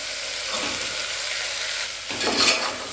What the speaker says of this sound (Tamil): அதோட நான் ஒரு உருளைக்கிழங்கு சேர்த்துருக்கேன். சின்னதாக கட் பண்ணி சேர்த்துருக்கேன். நல்லா வதக்கிக்கோங்க.